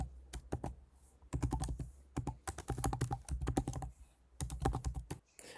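Keys tapped on a computer keyboard while entering an email address, quick clusters of crisp clicks in several bursts separated by short pauses, close and fairly quiet.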